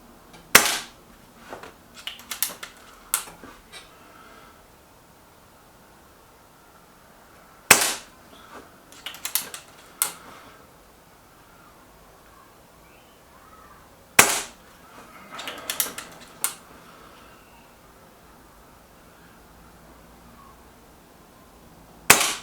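Sharp air rifle shots from a BSA R12 SLX fired at target cards, arriving in three spaced clusters of several cracks each, crisp and close with quiet gaps between.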